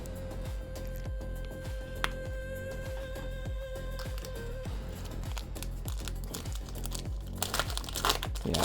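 A Union Arena trading card booster pack wrapper for Nikke: Goddess of Victory being torn open, with continuous close crinkling and rustling of foil plastic that grows louder and busier toward the end.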